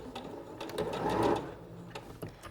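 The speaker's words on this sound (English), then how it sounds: "So now I'm going to sew all the way to the bottom, taking out my pins as I go" A Singer Professional 9100 sewing machine stitches a zipper seam with a fast, even mechanical whir and rapid clicking needle strokes, close and steady throughout, with no one speaking.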